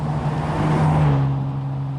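A 1993 Nissan Skyline GT-R R32 with some V-spec parts drives along, its engine a steady, moderately loud drone with a slight rise and fall in revs.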